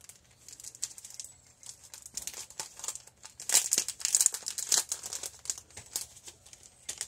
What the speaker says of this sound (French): je vais commencer par ouvrir la carte